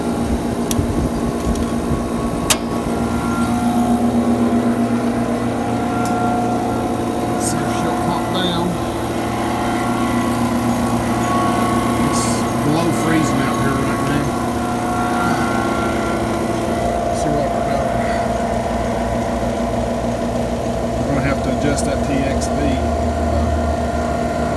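A repaired refrigeration compressor with bad valves runs in defrost, a steady loud mechanical hum and drone throughout with occasional clicks, and a voice speaks over it at times.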